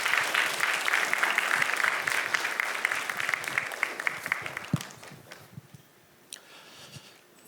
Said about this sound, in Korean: 오실 때 저희가 환영의 박수로 그리고 또 샬롬 하면서 함께 모시겠습니다.